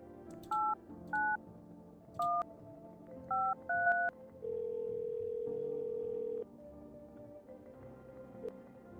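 Telephone keypad dialing tones in a video game: a series of short, distinct two-tone beeps in an uneven rhythm, followed by one longer steady tone, heard clearly alone over a quiet background hum.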